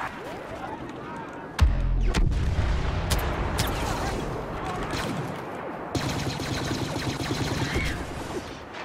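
Jetpack explosions and blaster gunfire from the Star Wars Battlefront game in a Drop Zone match: a loud blast near two seconds opens sustained, dense firing, with more bursts and booms near six seconds.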